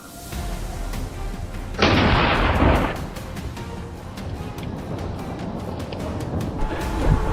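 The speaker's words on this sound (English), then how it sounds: "The sound of gunshots rang out once more" A gunshot rings out during a wild boar hunt in the outdoors, a loud blast with a roughly one-second rumbling decay, set against steady rustling background noise with faint thumps later.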